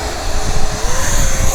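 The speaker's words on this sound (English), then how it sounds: "Now I'm cruising by, that's a real crop duster pass" An H-King Agwagon RC model crop-duster airplane cruises past at half throttle, its steady propeller-engine drone loud and close with slight rise and fall, no talk over it.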